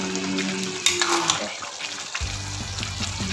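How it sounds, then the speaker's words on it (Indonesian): Tempe and anchovy oblok-oblok bubbling on the stove produces a continuous sizzling, simmering texture with occasional clinks and stirring noises, and a low hum in the background. "Nah, tuh mendidih semua."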